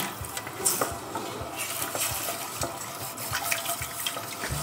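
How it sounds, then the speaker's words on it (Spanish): Liquid is poured into a thickening béchamel sauce while it is stirred, giving a soft continuous bubbling wash with light rhythmic taps of the utensil against the pot, quiet and close. "vamos echando más líquido"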